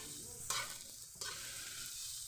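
Okra and vegetables fry in a pan with a steady bright sizzle while a utensil stirs them, giving two scraping swishes, close and fairly quiet, with no talking.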